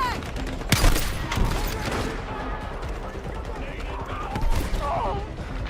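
Video-game machine gun fire cracks in short bursts, with one sharp loud shot early and scattered rapid fire after it, mixed with game chatter and a voice speaking.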